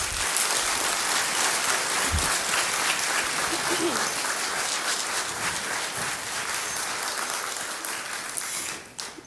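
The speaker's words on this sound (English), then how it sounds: "Please give another round of applause for these candidates." An audience applauds the candidates at a county candidate forum, sustained loud clapping from a roomful of people that fades out near the end, with voices mixed in.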